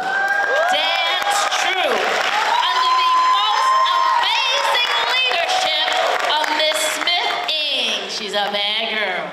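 A school audience at a South Ward arts showcase cheers, whoops and shouts loudly and continuously, with children's voices and crowd noise filling the space throughout.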